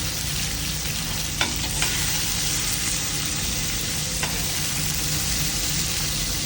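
Onion frying in a pan for a beef tomato soup gives a loud, steady, dense sizzle with a couple of faint stirring clicks, and no voices.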